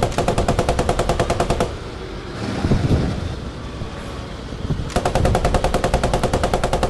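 Rapid machine-gun fire in the Post Scriptum game, a steady automatic burst up front that breaks off into a rumbling lull before the rattling gunfire resumes loud and close, with no talk over it.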